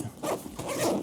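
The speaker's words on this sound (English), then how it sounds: "a fairly stiff zipper for sure" A stiff zipper on an Aer City Pack 2 backpack is dragged open in one short, scratchy, uneven pull, close up with nothing else heard.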